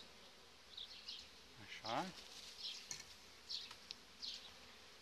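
Honey bees buzz around an opened hive of a gentle colony, a faint, uneven drone with individual bees passing close now and then, while a person speaks a short word softly.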